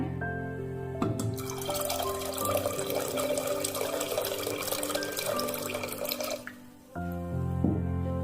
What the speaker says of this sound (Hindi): अब हमें इसमें थोड़ा पानी ऐड करना है।